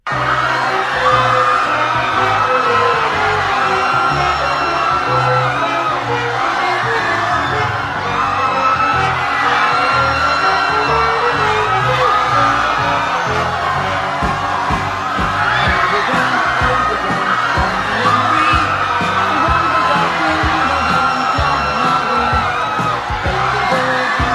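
Agitated concert crowd captured on an old tape recording, a dense continuous roar of shouting, whooping and yelling with scattered bangs, loud and sustained throughout.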